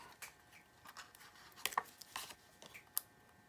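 Faint, irregular crunching crackles scattered through a quiet room, small crisp bursts of a cat chewing dry kibble nearby.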